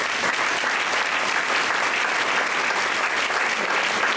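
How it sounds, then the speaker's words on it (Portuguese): Dense, sustained applause from a church congregation, a steady wash of many hands clapping at once without breaks. "E aplauso para o nosso Deus."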